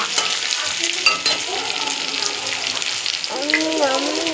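Moringa drumsticks frying with onion in a pan for a mustard-poppy seed curry, a steady close sizzle with stirring scrapes throughout and a brief faint voice near the end.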